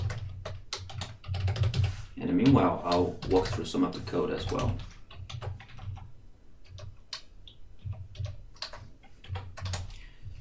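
Rapid computer keyboard typing, close and steady with bursts of clicks throughout, while someone talks over it.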